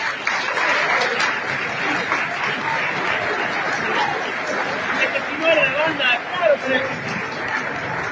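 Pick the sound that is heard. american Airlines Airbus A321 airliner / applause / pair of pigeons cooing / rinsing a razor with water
applause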